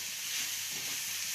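Spices dry-roast in a pan for a suran (elephant foot yam) curry, with a steady, close sizzling hiss that runs throughout.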